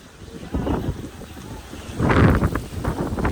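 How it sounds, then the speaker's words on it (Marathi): Strong wind gusts across a village house outdoors before rain, buffeting the microphone in uneven surges that swell louder midway, with no voices over it. "वारा बघा किती जोरात चाललंय मित्रांनो"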